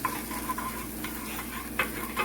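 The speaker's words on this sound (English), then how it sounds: "And add my butter. I'm using 1 tablespoon of butter." A tablespoon of butter melts in a pan on a low stove, giving a soft, steady sizzle with faint ticks and stirring scrapes, close and quiet, with no talk.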